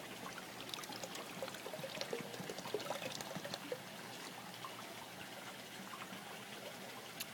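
Water poured and swirled to rinse out a container of liquid chelated iron for an aquaponics system, a soft steady trickle and splash, quiet and close, with no talking.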